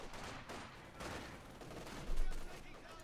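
Gunfire crackles in a Company of Heroes 2 battle as dense, overlapping bursts of shots, with one heavier thump partway through, all at a moderate, distant level.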